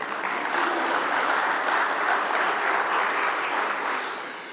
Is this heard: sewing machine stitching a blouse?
no